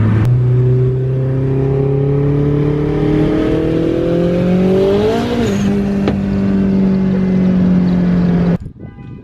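A car with its front end on ice and an oil warning light flickering drives with a steady, loud engine drone; the revs climb gradually, then surge sharply mid-way before settling, and the engine cuts off abruptly at the end.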